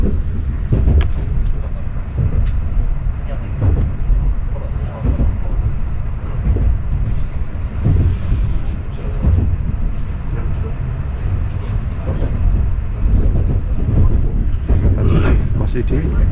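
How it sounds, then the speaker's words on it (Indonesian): Steady rumble of a Sanyo Shinkansen Nozomi high-speed train running in Japan, a continuous low roar with a person talking over it. "Berangkat guys, berangkat keretanya. Kereta tercepat ini,"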